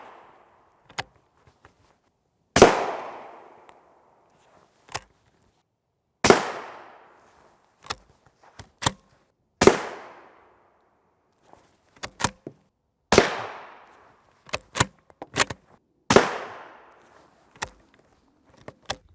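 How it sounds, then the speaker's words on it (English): Rifle shots from M193 ammunition fired through a 22-inch barrel at a Highcom Level IV armor plate, a series of sharp, loud separate cracks spaced several seconds apart, each with a short decaying tail, mixed with fainter smaller clicks and knocks. "Shots of M193 number 1, 2, 3, and then 4."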